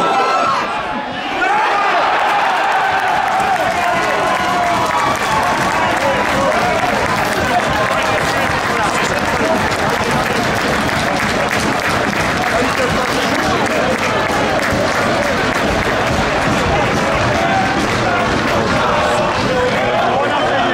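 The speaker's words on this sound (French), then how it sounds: "Un grand applaudissement pour lui, Tony Allen." Stadium crowd at an RFC Liège versus R Sprimont football match applauding a player, continuous loud clapping and cheering that swells after a brief pause and holds steady, with crowd noise throughout.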